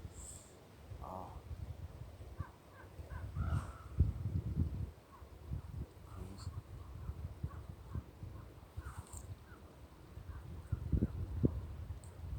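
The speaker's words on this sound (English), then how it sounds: "The crows kind of tell me about the landscape." Crows caw a few times in the distance over an outdoor landscape, scattered calls above low rumbling background noise and faint thumps, with no clear talk.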